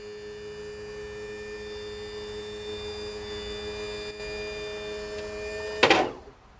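Wheelchair lift on a Vauxhall Movano wheelchair-accessible vehicle raising, a steady electric motor hum with tonal whine running throughout, ending in a brief louder clunk as it stops.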